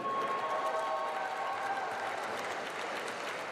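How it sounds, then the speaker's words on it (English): A crowd honoring the 1980 Pickett County High School Lady Bobcats basketball team at a Title IX celebration gives sustained applause, a steady wash of many hands clapping with a faint tone over it, with no speech. "let's give a big round of applause once again to the 1980 Pickett County High School Lady Bobcats"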